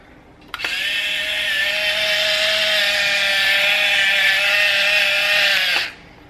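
An electric salt and pepper grinder whirs loudly and steadily at close range for about five seconds, starting and stopping abruptly, with no voices.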